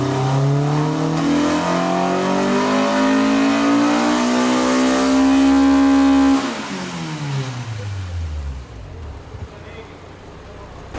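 A Honda Civic EK hatchback engine screams on a dyno pull, revs climbing steadily for about six seconds before the throttle lifts and the pitch falls away into a winding-down whine and room noise.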